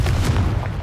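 A Confringo fire spell blast in the video game Hogwarts Legacy, a brief, loud, low-heavy boom with crackling bursts over under a second, close and without speech.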